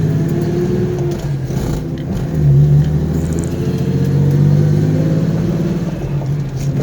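A car drives along on a winter road, its engine rumbling steadily and swelling into two revving surges midway, with no voices.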